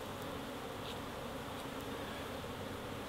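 Honey bees buzz around a hive outdoors, a faint, continuous swarm hum with occasional individual bees passing closer, steady throughout with no talk.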